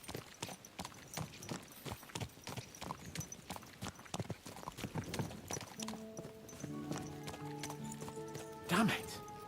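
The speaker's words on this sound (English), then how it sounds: "Let's really spur these horses on, eh?" Horses gallop with rapid, steady hoof clip-clops in the medieval game Kingdom Come Deliverance 2, the beat running throughout, with a short whinny near the end and a musical tone joining partway.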